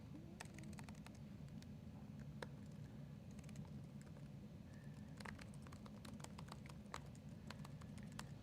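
Keys clatter on a British-layout computer keyboard in irregular bursts of typing, quiet and close against a low background hum, with short pauses between runs of keystrokes.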